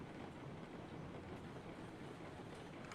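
A train in the Railroads Online video game rumbles steadily as it brakes, a dense continuous roar of wheels and rolling stock with no pause.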